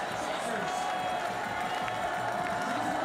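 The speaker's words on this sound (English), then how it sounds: "She comes into the stadium once more, again to a big roar." Large stadium crowd roars and cheers steadily at an Olympic women's cross-country ski race in PyeongChang, a continuous loud wash of voices and applause with a commentator talking over it.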